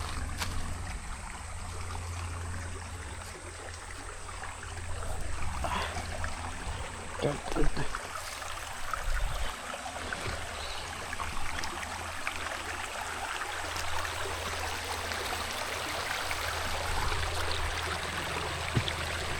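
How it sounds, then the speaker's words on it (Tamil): A stream in Yercaud flows steadily, its water rushing and trickling in a constant, fairly soft wash of sound from nearby. "இந்த இடம் நல்லாயிருக்கு, வாட்டர் ஃப்ளோ ஆகுது."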